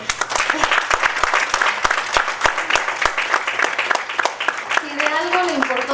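Scattered, sharp hand claps from an audience at a book presentation on children's and adolescents' rights ring out steadily and fairly close. A voice starts speaking near the end.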